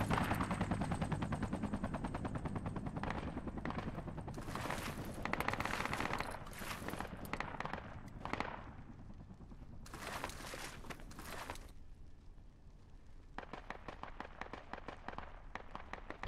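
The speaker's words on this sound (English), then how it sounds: "there's just a sniper on the mountain. He's shooting us." Sustained bursts of automatic gunfire and rapid shots from a sniper on a mountain in a multiplayer shooter video game, loud and dense, stopping and starting in heavy volleys without a break in the racket.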